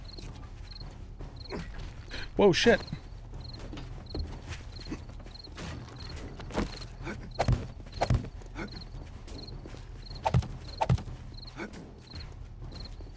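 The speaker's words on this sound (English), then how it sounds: "So I still hear multiple Zombo footsteps." Heavy zombie footsteps thud irregularly in 7 Days to Die, Alpha 19, on Insane Nightmare difficulty, with repeated steps and impacts spread across the clip and a few louder knocks, under a steady tonal beep and brief player exclamations.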